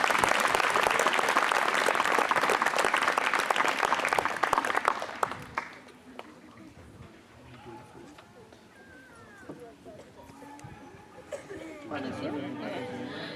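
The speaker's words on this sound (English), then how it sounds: "All right, let's give them a round of applause." Wedding reception guests applauding the couple, loud clapping and cheering for about five seconds that drops off abruptly into quieter room chatter, scattered noises and murmuring voices.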